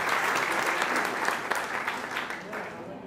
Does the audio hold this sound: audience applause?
yes